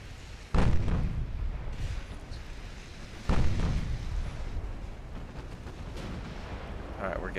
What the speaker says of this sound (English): I want only the battleship firing, to keep firing at that cruiser.